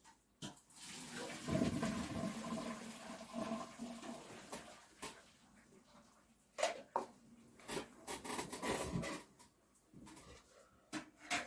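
Cold tap water runs into a kitchen sink over a strainer holding boiled eggs, a steady rushing stream with splashing and a few clunks of handling, moderately near.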